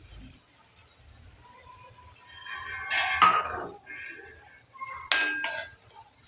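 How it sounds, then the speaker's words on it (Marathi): Tomato puree made from two tomatoes goes into a pan of sautéed masala for paneer butter masala, with sharp metallic clinks of a utensil against the pan and a soft splat, close and fairly quiet, no talk. "हे 2-3 मिनिट परतल्यानंतर त्यात मी टोमॅटो प्युरी घालणार आहे।"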